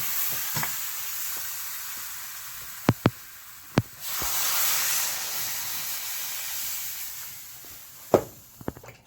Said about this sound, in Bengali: ভালো করে কষিয়ে দিলাম এবার জল দেবো